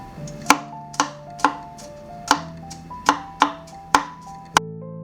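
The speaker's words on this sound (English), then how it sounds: "One scallion, minced. 3 cloves of garlic, peeled and minced." Knife chopping a scallion and peeled garlic cloves on a board for a Chinese cauliflower stir fry, about ten sharp, evenly spaced chops close up, over faint background music.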